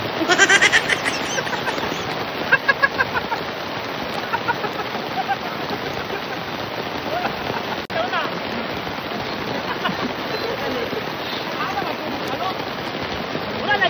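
Steady rain hisses throughout, a dense continuous wash of drops with a few brief louder patters near the start.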